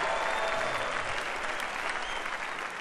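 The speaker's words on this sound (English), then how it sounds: "give Him a shout and a hand clap of praise" A church congregation claps hands in praise, steady, dense applause from many people filling the room throughout.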